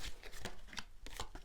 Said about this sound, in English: So, a good shuffle, and I'm just focusing around you